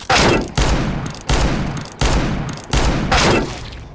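Five heavy, evenly spaced gunshots from a shooting video game fire one after another, each loud and close with a long ringing decay before the next.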